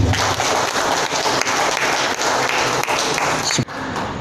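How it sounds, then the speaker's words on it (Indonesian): The audience at a seminar on national heroes in Surakarta gives a burst of steady clapping that continues for several seconds before cutting off sharply. "Tepuk tangan untuk para beliau."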